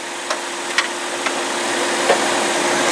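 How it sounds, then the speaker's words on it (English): A 2006 Saturn Ion 3 sedan engine idles with a steady, even hum and a faint high whine, with a few light clicks near the start. "no valve train noise, no lifter noise, and I promise you, this engine is tight as can be"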